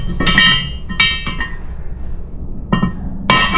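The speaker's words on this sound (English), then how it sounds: "Tap it with a hammer." A hammer taps on an engine valve seat in a ported cylinder head from a boosted twin-turbo 1000HP Jeep, giving several sharp, ringing metallic clinks in irregular bursts, close and loud.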